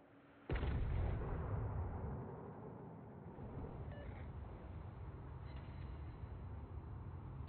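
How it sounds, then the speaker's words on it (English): Shells ricochet off a warship in a naval video game: a sudden loud metallic crack and rumbling impact, followed by a lingering low roar of battle noise. "Two ricochets."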